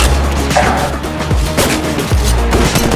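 Loud, close bursts of gunfire in the Apex Legends battle royale game, rapid shots and heavy impacts repeating throughout over a dense rumble of battle noise.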